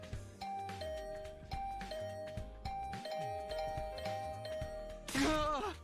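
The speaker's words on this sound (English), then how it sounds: "this assault on my doorbell will continue until I answer" Doorbell in the game The Hundred Line: Last Defense Academy, rung over and over in quick succession with clear bright chimes, ending in a louder, busier burst.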